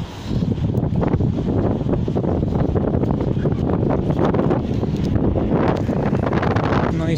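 Strong wind buffets the microphone in a steady, roaring rumble that never lets up, heard outdoors on a walk along railway tracks toward the Ekaterininsky monastery, with no clear talk over it.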